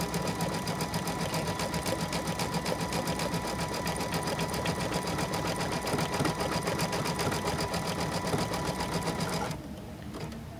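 A close embroidery machine stitches a satin stitch around a flower with a steady, fast mechanical whirr and tapping that runs evenly, then drops off near the end.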